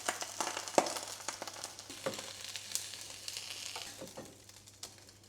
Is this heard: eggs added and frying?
yes